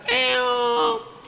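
A single drawn-out cat meow, loud and close, rising and then sliding down in pitch before trailing off; it may be a voice imitating a cat.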